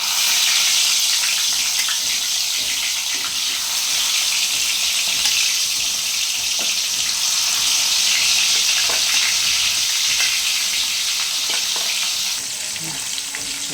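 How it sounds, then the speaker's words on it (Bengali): Chara pona fish frying in hot oil in a small kadai, a loud dense hissing sizzle that stays steady throughout and eases slightly near the end, with no talking. "এই যে আমি মাছটা ছেড়ে দিচ্ছি ভাজার জন্য।"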